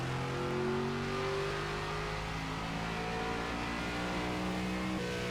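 NASCAR race car engine at full throttle in the NASCAR 25 video game, a constant loud drone with a high whine held steady and unbroken throughout.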